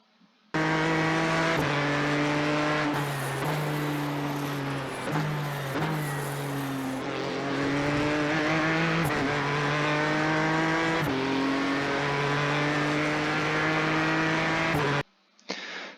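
A Ford GTE race car at speed around Imola in iRacing, its engine a loud, close, steady roar rising and falling through gear shifts, braking and acceleration, with no talking.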